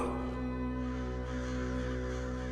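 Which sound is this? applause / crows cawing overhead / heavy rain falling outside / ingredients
crows cawing overhead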